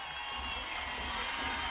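A high school football crowd on the home side stands and cheers for their coach, a broad steady roar of voices at a distance with no clear break.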